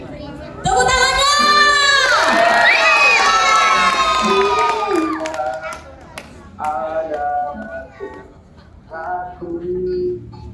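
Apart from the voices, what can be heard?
audience applause and cheering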